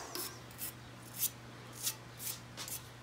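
Repeated hand-scraping strokes on metal, flaking off small bits of steel, sound as six short rasping bursts spaced about half a second apart over a steady low hum, close and fairly quiet.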